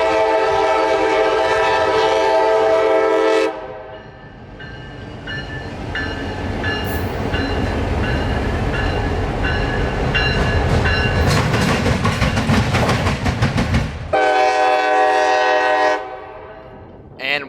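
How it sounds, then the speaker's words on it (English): Daily mixed freight train out of Tampa, Florida, rolling past close by with loud horn blasts at the start and end and a steady rumble and clatter of cars in between. "a local train running from Tampa to Winston and back to Tampa"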